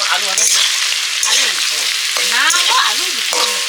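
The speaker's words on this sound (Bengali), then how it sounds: "হালকা ভাজা মৌরলা মাছ টকের জন্য যত হালকা ভাজবো ততই ভালো" Small mourala fish frying lightly in hot oil, a steady close sizzle and crackle running throughout with soft stirring scrapes on top, no one talking.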